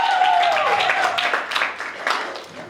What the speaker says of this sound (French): Est-ce qu'on peut applaudir pour nous lorsqu'il sera en train?